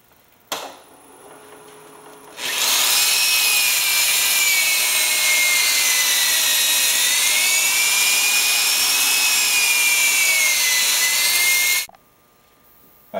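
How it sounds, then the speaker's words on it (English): A segmented wooden bowl spins on a lathe while 400 grit sandpaper is held against it, making a loud steady whirring hiss with a high whine that holds for about nine seconds and then stops abruptly. "I finished sanding it down to 400 grit sandpaper."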